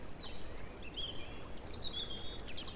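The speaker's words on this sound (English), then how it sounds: "and I can actually hear chiff-chaff." Chiffchaff song on a spring morning at a nature reserve near a river path, thin high chirps repeated at a distance over a soft outdoor hiss, with no voices.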